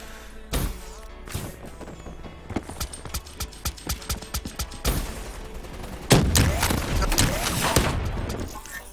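Gunfire in Call of Duty Black Ops 3, a steady run of sharp shots at moderate level with a denser burst near the end, over game background noise.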